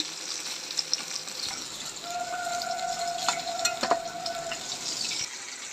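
Turmeric-and-salt-coated fish frying in a home kitchen, a steady broadband sizzle running throughout with a few clinks and a thin tonal whine midway, no talk.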